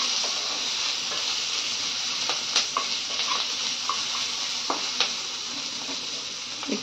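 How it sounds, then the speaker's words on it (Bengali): Chopped garlic fries on low heat with a steady hiss of bubbling oil, punctuated by occasional pops and faint spatula clicks, close and continuous with no talking. "আঁচটা কমিয়ে আমি ভালো করে ভেজে নেব।"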